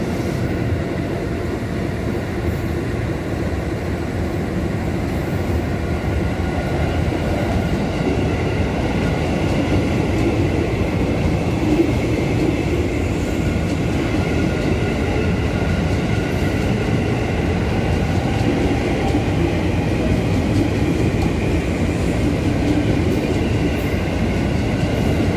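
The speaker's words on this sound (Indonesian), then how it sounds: "Di stasiun ini KRL tidak berhenti, ia hanya melintas begitu saja." A KRL commuter train rumbles continuously through Gambir station in Jakarta without stopping, a dense steady roar of wheels and rails at close range that never pauses.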